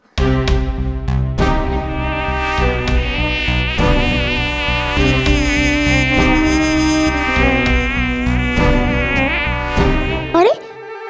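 A loud, continuous whining buzz with a wavering pitch, like a mosquito close by, running unbroken for about ten seconds before cutting off with a short rising sweep.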